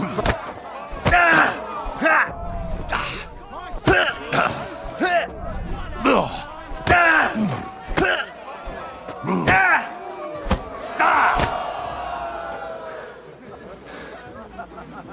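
Fist fight in Kingdom Come: Deliverance 2, heavy punches and thuds landing in irregular bursts amid grunts, shouts and a watching crowd, with voices talking throughout.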